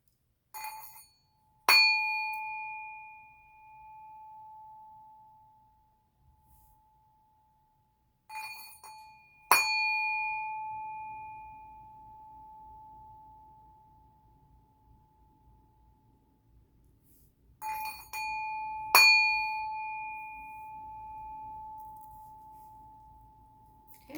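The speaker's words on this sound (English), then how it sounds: "we're going to go ahead and hit the singing bowl" A metal bowl is struck three times, each strike ringing out in a long, pure sustained tone that slowly fades, with quiet pauses between strikes.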